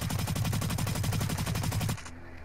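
A loud, close automatic weapon fires a steady rapid burst of evenly spaced shots in the video game Blacklight. It lasts about two seconds and then stops abruptly, leaving faint background ambience.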